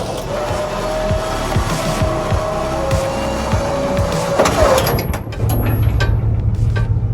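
A diesel BMW drift wagon cranks and fires up close by, rattling mechanical clatter with a whining tone that cuts out, then a rough, steady low idle settles in after the start.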